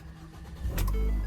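A 1993 Cadillac engine cranks and catches at an auction, settling into a low, steady idle rumble, close and fairly quiet.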